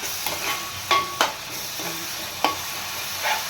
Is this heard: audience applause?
no